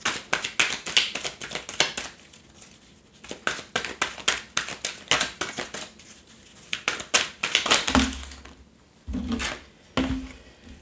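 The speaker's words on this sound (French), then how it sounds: "Je vais décaler pour mettre la dernière carte." Tarot cards are dealt and laid out one by one on a table, giving a run of sharp, close taps and slaps in uneven bursts, with a few soft low thuds near the end.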